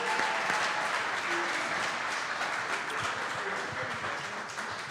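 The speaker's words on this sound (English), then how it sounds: "How about another round of applause for Karl Brooks?" A studio audience applauds Packers defensive lineman Karl Brooks on a live show, a dense, even wash of clapping at moderate distance that slowly fades.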